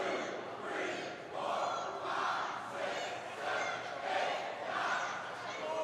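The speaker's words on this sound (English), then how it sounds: "this Michigan crowd is counting along with Max Caster" Michigan wrestling crowd chanting a count in unison along with punches in the ring, loud rhythmic group shouts rising and falling about once a second over a constant crowd murmur.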